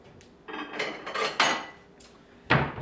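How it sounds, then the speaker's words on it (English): Ceramic plate clinking and knocking as it is taken out in a kitchen, several close, sharp clatters and scrapes of dishware spread over a few seconds with no talking. "let me get a plate"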